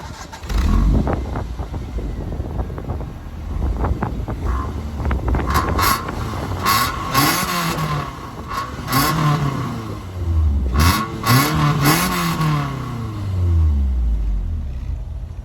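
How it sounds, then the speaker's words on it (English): A 1990 Toyota Celica 4WS GT-R engine revs repeatedly, the exhaust note rising and falling in throaty swells, close and loud, with wind buffeting the microphone. "there's a very nice exhaust note coming from this engine"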